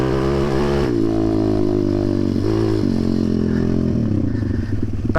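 Zongshen 190 pit bike engine pulling away in second gear, a loud close continuous drone with stepped pitch changes as it revs and shifts, with some clatter from the bike.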